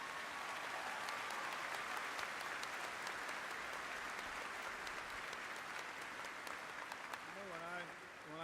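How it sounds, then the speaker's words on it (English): Steady, dense applause from a large audience at a university commencement ceremony throughout, with a voice beginning to speak near the end. "a big round of applause"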